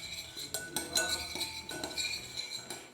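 A metal spoon stirs and clinks against a bowl while chili powder and lemon juice are mixed into a masala for cauliflower roast, giving a run of sharp, close clinks and scrapes at an irregular pace.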